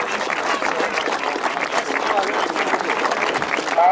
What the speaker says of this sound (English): Give a big round of applause as they receive their prize money.